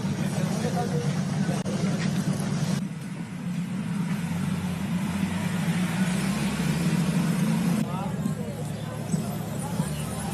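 Old cars driving along a street in Cuba, a continuous low engine rumble passing nearby while people talk over it.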